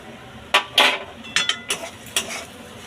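Fried ground spice is stirred into an egg devil mixture in a pan, with a utensil clattering and scraping against the cookware in several sharp, uneven strokes.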